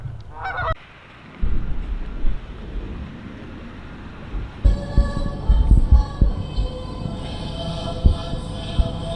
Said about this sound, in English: Canada geese that you see there that stay here all year